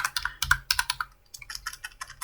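Rapid typing on a computer keyboard, close and crisp, with quick irregular bursts of key clicks and a brief pause midway.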